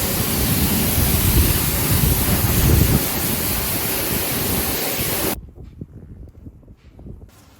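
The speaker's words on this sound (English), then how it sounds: "Now let's rinse it off and check the results." A car being rinsed with water during an exterior wash: a loud, steady broadband hiss of spraying water that cuts off abruptly, leaving quieter dripping and handling noises, close and without speech.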